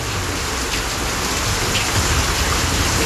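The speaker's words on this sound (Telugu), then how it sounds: "ఏపీలో అలా వర్షం దంచుకొడుతుంటే" Heavy rain pours down steadily in Andhra Pradesh, a loud, dense, unbroken hiss of falling water with no voices.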